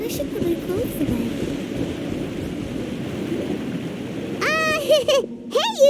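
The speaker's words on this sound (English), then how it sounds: "Oh, it's raining." Steady rain hisses across a video game scene for several seconds, soft and even, before a voice begins speaking near the end.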